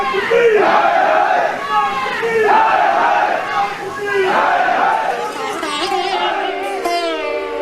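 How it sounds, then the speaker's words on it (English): Crowd at a World Sikh Organization convention in New York roaring and chanting in rhythmic surges, loud and sustained, a massed chorus of voices rising and falling over several seconds. "The WSO crowd cheered him on."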